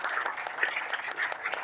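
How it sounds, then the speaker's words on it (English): Scattered hand clapping from a small group of participants closing an online startup funding hangout, brisk individual claps heard fairly close, as if over a call, lasting under two seconds. "Please give our guests a big, big round of applause."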